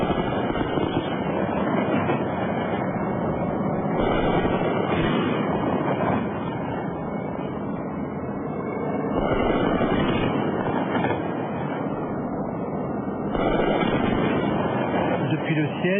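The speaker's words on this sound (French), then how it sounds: "nous entendons des hélicoptères arriver." A dense, continuous roar of French army helicopter rotors approaching over Abidjan, heard from a hotel roof, swelling and easing in waves, muffled and rough with no clear gaps.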